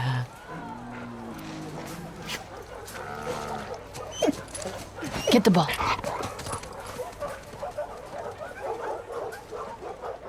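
Bear, a dog in the video game The Last of Us Part 2, gives short yips and whimpers amid footsteps and game ambience, while a person talks over the sounds.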